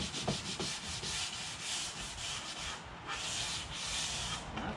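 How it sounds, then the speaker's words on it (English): Sandpaper rubs by hand across a hardwood stair tread and its nose in steady back-and-forth strokes, a close, continuous hissing scrape pulsing with each pass. "hit that with a little hand sandpaper"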